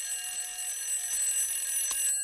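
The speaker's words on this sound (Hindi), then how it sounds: "ये अलार्म अपनी बेटी को उठाने के लिए लगाया है या पूरे मोहल्ले को?" An alarm clock rings continuously with a bright, steady electronic tone that stays loud and close throughout, then cuts off abruptly near the end, with no talking over it.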